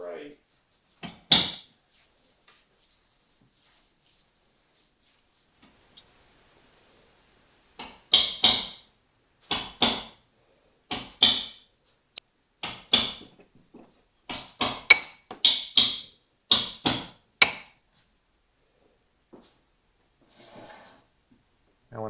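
Wooden sailboat seam being caulked, a mallet tapping caulking into the seam in sharp single knocks and short clusters, close and dry, separated by quiet pauses.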